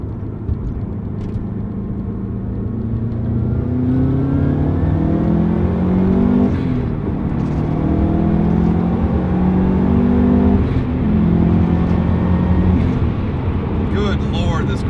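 A Subaru WRX with a Gimmick Motorsports exhaust accelerates hard in third gear with the windows up, its engine note climbing steadily through repeated rising sweeps over a constant loud road drone.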